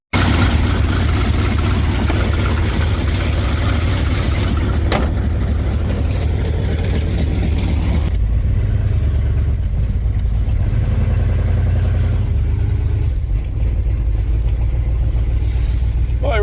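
A 1985 Chevrolet K20 pickup plow truck with a failing engine idles unevenly, its low rumble wavering and stumbling slightly, steady and close for the whole stretch with no voices.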